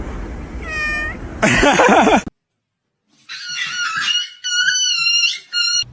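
A house cat meows loudly and close, a drawn-out wavering cry followed by a brief burst of noise, a short silence, then more insistent strained meows.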